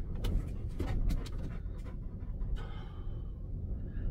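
A Belgian Malinois shakes its coat, making a quick flapping, rattling burst at close range, and then pants steadily in rapid breaths, with no one talking.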